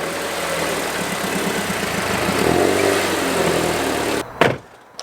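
An Audi TT Mk2 engine idles and pulls steadily as the low car is driven up onto ramps, a mid-pitched hum with a brief rise in effort, then cutting off into near quiet with a few light knocks.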